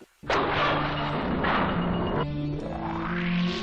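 Anime sound effect of planet Vegeta exploding in Dragon Ball, a sudden loud blast followed by a sustained roaring rumble with layered tones. A second surge comes midway and a rising sweep follows, all without talk.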